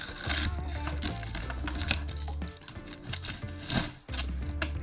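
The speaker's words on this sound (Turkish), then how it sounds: "Şuradaki bantları da açalım." Packing tape is peeled and ripped off furniture in several rasping pulls, close by, with scraping and rubbing between the tears.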